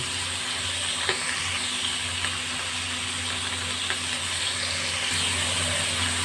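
Potato, carrot, pumpkin and papaya frying in hot spiced oil make a steady, close hiss of sizzling, with a few faint clicks and pops throughout.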